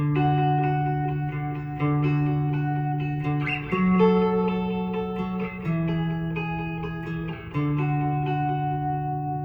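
Electric guitar notes ring out sustained through delay and reverb effects, a steady chordal line with changes about every two seconds, fairly loud and alone.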